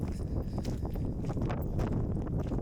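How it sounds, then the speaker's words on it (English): Wind gusts over a cliff-top viewing platform at the Great Australian Bight, buffeting the microphone in a steady rumbling roar with scattered thumps. "Still windy here."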